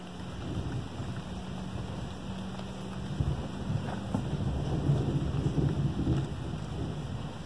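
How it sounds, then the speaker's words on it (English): Low rumbling thunder rolls through a steady outdoor wash of rain and wind during gardening work, with a faint deeper swell near the middle and no clear sharp crack. "Oh my gosh, you hear that thunder?"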